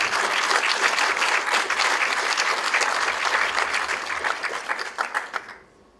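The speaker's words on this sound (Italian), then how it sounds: "applauso." An audience at the Odoo Italia Awards claps loudly and continuously, the applause thinning into a few scattered claps before cutting off at the end.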